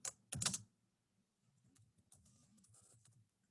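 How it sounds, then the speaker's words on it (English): Fingers type on a computer keyboard, a couple of loud clacks first and then a quieter run of quick, close key taps with no speech. "now you're going to type your full title here"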